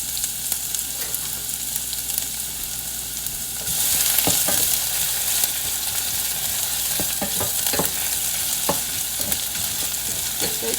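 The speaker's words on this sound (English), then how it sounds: "So I'm going to add in the ginger and garlic. I'm going to stir it a little bit." Ginger and garlic frying in a pot, a steady close sizzle with scattered clinks and scrapes of a utensil stirring them through the hot oil.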